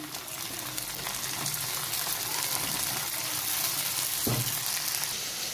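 Chopped tomatoes frying on a high gas flame for egg bhujia, a continuous close hiss and crackle of sizzling with occasional stirring scrapes, steady and alone with no voices.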